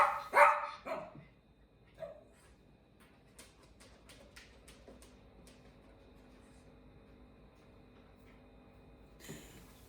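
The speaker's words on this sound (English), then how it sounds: "So he continued to bark" A young dog named Royce barks from inside a crate, a loud burst of several barks at the start followed by sparse, quieter yips and thumps in a quiet room, with another bark near the end.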